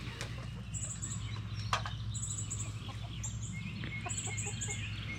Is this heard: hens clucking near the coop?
yes